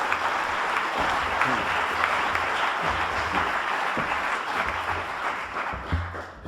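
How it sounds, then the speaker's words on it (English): Sustained, steady applause from an audience fills the room as a women's advocate is welcomed to the stage at a talk on gender equality, even and fairly loud throughout. "I would like to ask you to welcome her with a warm round of applause"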